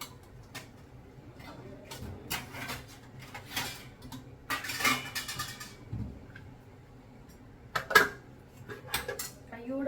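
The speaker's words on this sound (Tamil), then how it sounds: "ஒரு 5 நிமிஷம் மூடி போட்டு வச்சிடலாம்." Metal pot and lid clatter in a home kitchen: a string of sharp clinks and knocks, with one louder clank near the end, over a low steady background hum.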